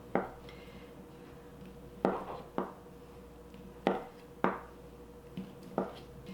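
A knife chops Yukon Gold potatoes into small pieces on a cutting board, with sharp close thuds in irregular pairs and singles, about seven strikes over a quiet background with no talking.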